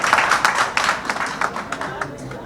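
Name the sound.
audience applauding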